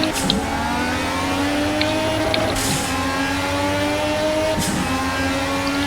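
A race car engine in the racing video game Project Cars revs steadily with a sustained whining drone and rising harmonic tones, punctuated by two brief gear-shift bursts, loud and continuous with no talk.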